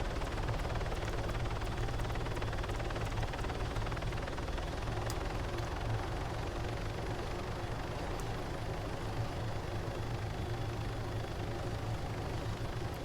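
A Call of Duty Modern Warfare 3 helicopter drones as a dense, constant rotor and engine rumble, steady throughout with faint game effects over it.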